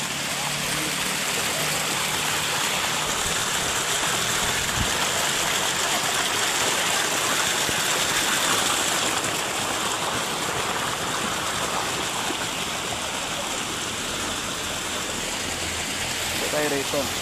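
Cold water from a mountain stream flowing down from Mayon rushes steadily and loudly close by, a constant broadband hiss that fills the whole scene.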